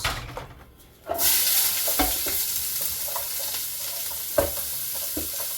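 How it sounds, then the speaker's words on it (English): Onions tipped into a Ninja Foodi XL pot over freshly seared roast beef: a quiet moment, then a sudden loud sizzle that keeps hissing while a utensil stirs with intermittent scrapes and knocks. "I'm gonna put in my onions."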